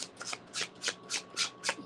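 Tarot cards shuffled by hand in a quiet room, a run of about seven crisp, rapid riffling bursts in close succession, near and fairly soft, with no talking.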